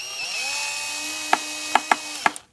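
A power driver whirs while driving screws into a hoverboard casing, then gives four sharp ratcheting clicks close by as the screw seats.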